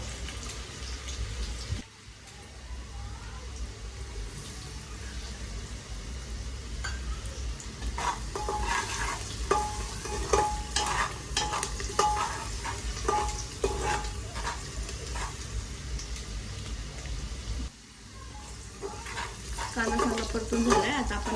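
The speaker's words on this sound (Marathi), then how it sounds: "कांदा आपण चांगला परतून घेऊया त्यासाठी आपण अगोदर मीठ टाकूया" Chopped onions with salt sizzle and fry in a pan for mutton masala, with steady crackling throughout and repeated scraping stirs in the middle, close and moderately loud.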